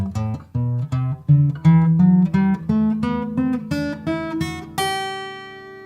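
A natural major scale in G is played on a plucked string instrument, one note after another in a steady rhythm, rising step by step and ending on a long ringing top note. The notes are clear, close and alone, with no talk.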